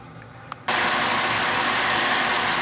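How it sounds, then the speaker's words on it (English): A 2007 Ford Mustang with the 4.0L V6 engine idles steadily after a quiet moment, the engine catching abruptly and then holding an even, loud rumble. "The car started normally. It's idling the way it always has before"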